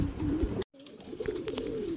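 Racing pigeons cooing close at hand in a loft, soft repeated low coos broken by a brief silent gap.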